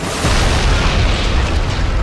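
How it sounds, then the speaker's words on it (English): Three vans explode in a street, producing a sustained loud booming roar that fills the moment, dense and close with no talking. "3 vans explode, spilling a thick green gas across the streets"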